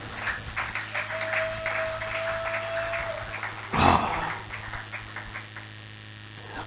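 A church congregation applauds and cheers, a steady patter of clapping with a brief louder surge of voices near the middle, over a low electrical hum.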